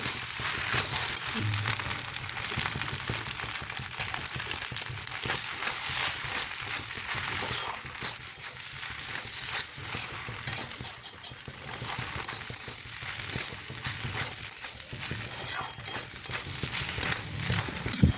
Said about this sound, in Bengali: সব কিছু দেওয়া হয়ে গেলে ভালো করে পাস্তাটাকে নাড়াচাড়া করে নিতে হবে।